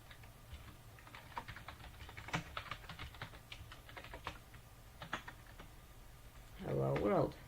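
Someone types HTML text on a computer keyboard, a quiet run of uneven key clicks, faint and close, with a brief burst of speech near the end.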